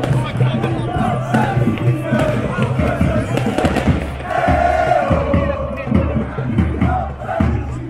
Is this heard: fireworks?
yes